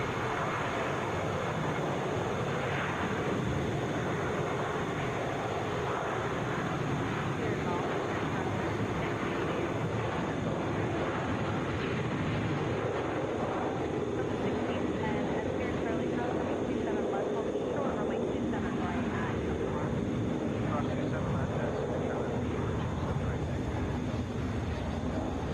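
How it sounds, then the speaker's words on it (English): A Boeing 737 airliner bound for Tucson takes off at Atlanta's airport, its jet engines roaring in a long, steady broadband wash from a distance, with a voice talking over it. "This is 1637 to Tucson, Boeing 737."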